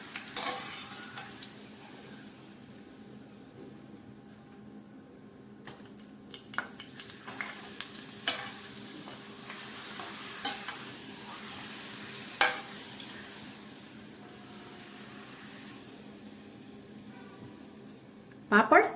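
Papad frying in hot oil in a kadai, a soft continuous sizzle under occasional clinks and scrapes of a utensil, with a louder clatter at the very end.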